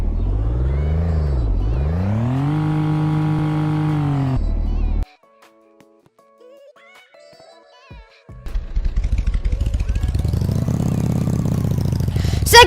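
A Roblox game car engine whines and revs up and down, drops out briefly to near silence, then roars back loud and rough.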